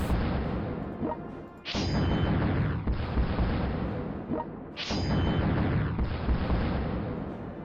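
Heavy bomb blasts in the strategy game Generals, two big booming explosions a few seconds apart, each with a sharp onset and a long rumbling tail.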